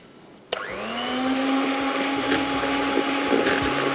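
An electric beater switches on and whirs steadily, beating icing sugar with butter or oil and vanilla essence for a pound cake; a loud, continuous motor drone with a sharp start, running alone without talk.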